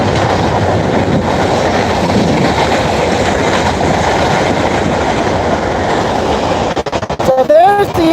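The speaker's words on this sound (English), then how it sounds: "So there's the end of those trains right there." A Chicago and North Western freight train rumbles past in a steady, loud roar of rolling cars and wheels, with a brief squeal and some speech breaking in near the end.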